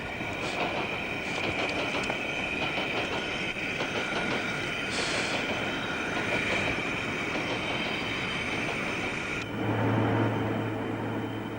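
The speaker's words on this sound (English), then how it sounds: "Train coming." A train rumbles steadily past for several seconds in the Yorkshire countryside, wheels clattering and squealing on the rails, loud and continuous throughout.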